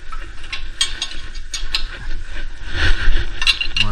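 A wrench cranks the nut on a puller bolt used to free a stuck disc brake rotor, giving a run of sharp metallic ratcheting clicks and clinks, close and fairly loud, in uneven bursts.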